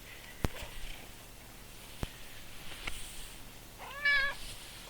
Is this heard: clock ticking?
no